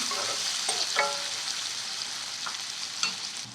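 Chopped onions frying in a pan for kakarkai pulusu, a steady hiss of sizzling oil with occasional scrapes and clinks of a spoon stirring, close and unbroken.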